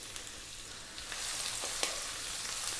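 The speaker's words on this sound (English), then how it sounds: "We're going to drop in our onion and our chopped garlic." Onion and chopped garlic sizzle in a pot over high heat for a tom yum mushroom soup, a steady close hiss of frying with a few small pops and stirring clicks, no voices.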